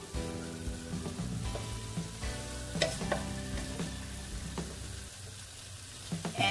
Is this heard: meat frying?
yes